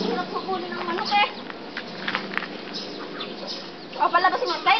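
Chickens clucking and squawking in short bursts, fairly close, with people talking over them and a flurry of louder squawks near the end.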